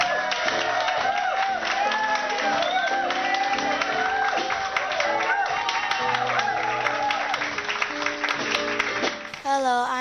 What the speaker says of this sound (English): how about a big fabulous round of applause for Miss Jean Holden